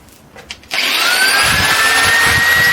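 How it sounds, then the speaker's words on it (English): A power tool cuts down bolts during a Gingery mill transmission upgrade, starting abruptly after a brief shuffle and then running loud and steady with a high whine. "I have to shorten 3 bolts."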